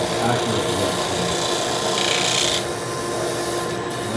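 Close, continuous abrasive rasping and sanding as a briar pipe bowl is shaped, dense and steady, with a brief brighter burst partway through.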